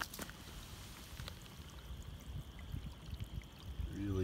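Clear spring creek swollen by recent rain, running steadily with a soft continuous wash and light splashing, moderately close and alone without voices.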